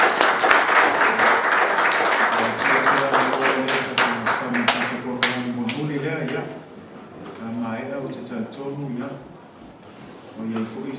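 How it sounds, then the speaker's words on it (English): Applause from a church audience at an Easter Sunday program, bursts of clapping strongest at the start that thin out as voices take over and carry on above the fading claps. "Let's just give them a round of applause for hard work today"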